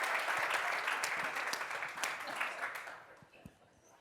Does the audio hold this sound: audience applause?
yes